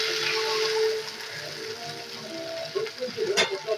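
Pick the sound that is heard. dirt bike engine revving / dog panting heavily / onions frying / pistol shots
onions frying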